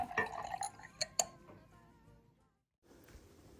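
Wine, including Xinomavro, Morgon and Syrah, poured from small bottles into glasses, with soft liquid trickles and a few sharp glassy clinks, then a brief silence and faint room noise.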